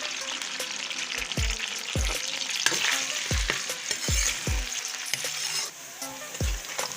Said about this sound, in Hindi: अब मैं प्याज शामिल कर रही हूँ।